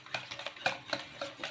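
Egg paratha batter with coriander stirred briskly in a bowl, quick rhythmic taps and scrapes of a utensil, close and fairly quiet, with no voices.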